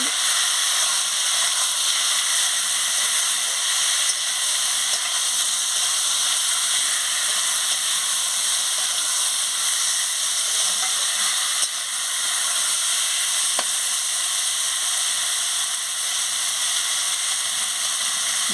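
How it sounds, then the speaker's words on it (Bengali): A steady, hissing sizzle from vegetables frying in a pan, constant and fairly loud with little variation throughout. "আনাজ দিয়ে ভালো করে"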